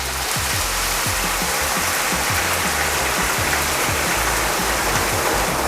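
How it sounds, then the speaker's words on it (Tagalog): Hot water pours steadily into a pan of spicy pork ginataan, making a continuous loud rushing, splashing wash that holds unbroken throughout. "Ngayon lalagyan natin siya ng hot water para lumambot yung meat natin."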